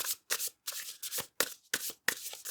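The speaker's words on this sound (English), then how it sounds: "You saw me shuffle." Tarot cards are shuffled for a pick-a-card reading, in about seven crisp, evenly spaced riffling bursts separated by brief silences, close to the microphone and fairly quiet.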